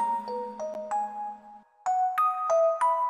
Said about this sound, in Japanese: 思い出になってしまった鐘の音